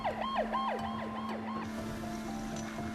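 An ambulance siren wails at night in repeated rising and falling sweeps, loud and close, over a steady engine drone, then shifts to a steadier tone.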